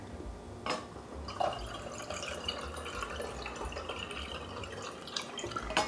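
Distilled water trickles and drips into vinegar in a container, with a soft splash and faint glassy clinks against a low background hum.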